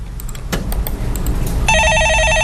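A desk telephone in a Korean stock-market call-in radio studio starts a steady electronic ringing partway through, loud and close over a busy background murmur.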